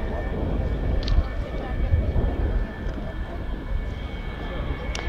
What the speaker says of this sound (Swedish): Detta flygplan som nu flyger, den levererades 1969, så levererades den till F-12 i Kalmar.